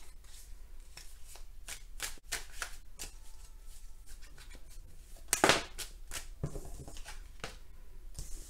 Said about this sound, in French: je bats les cartes et je prends uniquement celles qui sautent